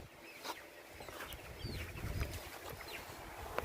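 Sonali chickens on a poultry farm under a large tarpaulin shed, clucking softly and intermittently at a distance with faint scattered calls and rustle.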